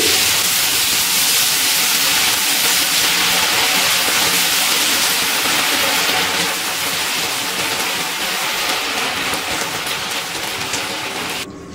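Ginger and green chilli paste with a little water frying in oil for a vegetarian cauliflower rezala, a loud, steady broadband sizzle and hiss that runs without a break and eases slightly near the end.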